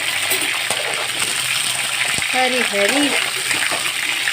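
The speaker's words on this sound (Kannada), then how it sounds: "ಎಣ್ಣೆ ರಟ್ತಾ ಇದೆ." Brinjal pieces dropped into very hot oil for ennegai set off a steady broadband hiss and crackle of spattering, continuous across the clip, with a voice speaking briefly over it.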